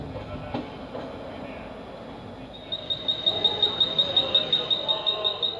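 Koyna Express train near Karjat Junction, at a technical halt: a soft, even rumble that turns into a steady rhythmic clatter of wheels about halfway through, with a thin high whine above it.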